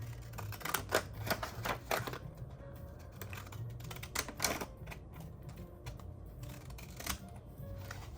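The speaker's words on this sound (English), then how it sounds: "I'm gonna cut it with my little pattern scissors here." Quiet, repeated snipping and crisp clicks as pattern scissors work through paper in irregular bursts, close up with no talking.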